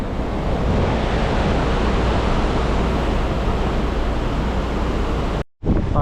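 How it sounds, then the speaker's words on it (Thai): Ocean waves wash against a cruise ship's hull at sea with wind buffeting the microphone, a loud, continuous rushing roar that cuts out abruptly just before the end. "นี้คลื่นมาจาก กาบซ้ายเรือนะครับ เฉียงมาจากข้างหน้าตรงนั้น"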